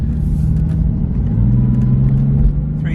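A Porsche 996 exhaust climbs through the rev range while driving, a loud, close low rumble whose engine note rises steadily in pitch over a few seconds.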